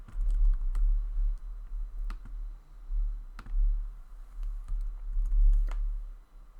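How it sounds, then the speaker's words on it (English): Computer keyboard typing while content is entered into a website builder: quick, irregular light key clicks in short bursts over a low steady hum. "then just type in the content that I want to add"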